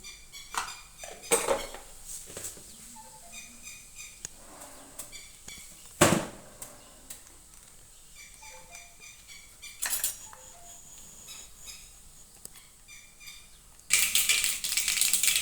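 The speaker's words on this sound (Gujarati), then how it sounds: "તેલ મૂકી દીધું છે તપવા, તો નાખીશું રાઈ જીરું" Mustard seeds and cumin going into hot oil in a home kitchen pan: sparse metallic clinks and taps of utensils against cookware, then a sudden loud, close burst of sizzling and spattering at the end.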